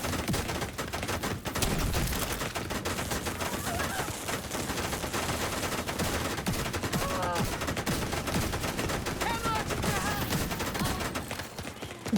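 Sustained minigun fire from a video game firefight roars on as a constant dense rattle, with scattered sharper shots and electronic chirps layered in and no clear talking.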